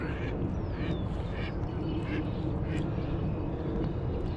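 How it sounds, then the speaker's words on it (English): Ducks quacking on a foggy outdoor walk, several short calls spread through a steady background rumble of distant noise. "Oh, hi duckies."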